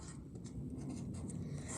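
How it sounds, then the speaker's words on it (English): A marker writing numbers, faint squeaky strokes in short bursts over a quiet room hum. "I'm still trying to write upside down"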